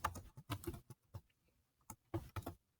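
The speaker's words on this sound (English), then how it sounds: "Very slow typer today." Slow, uneven keyboard typing: scattered clusters of key taps separated by pauses, close and fairly quiet with no talking.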